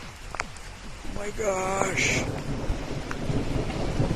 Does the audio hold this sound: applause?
no